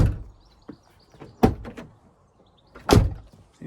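A Range Rover P38 door handle and latch, newly fitted with its latch rod, is worked several times, giving close, sharp mechanical clunks and clicks spaced about a second and a half apart, with quiet gaps and no talking.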